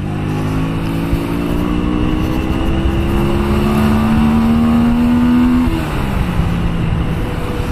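A Honda Shadow 125 motorcycle rides along with a loud, close engine drone that rises steadily in pitch as it accelerates, then drops off abruptly as the rider shifts or eases off.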